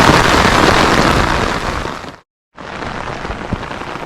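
Heavy rain pours down at Cherrapunji in Meghalaya, a loud, dense downpour drumming on surfaces, broken by a brief gap of silence before the steady roar resumes.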